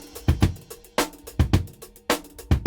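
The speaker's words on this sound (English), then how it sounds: "I have a simple drum loop loaded up that we used in one of the previous videos." A simple drum loop played in Kontakt, with a steady groove of punchy kicks, snappy snares and busy bright hi-hats or cymbals, loud and continuous with no talking.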